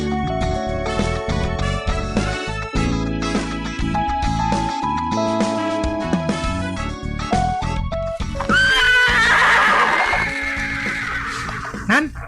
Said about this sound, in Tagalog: Hala, kadamo gali sa mga kabayo diri.